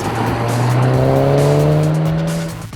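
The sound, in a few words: Audi A1 Quattro engine growling under acceleration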